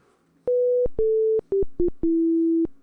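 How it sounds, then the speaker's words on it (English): A small electronic buzzer in a homemade game console beeps out a short melody, six clean pure tones of differing lengths and pitches, loud and isolated. "rapidly alternating between setting the voltage to high and low, causing the plate in the buzzer to vibrate"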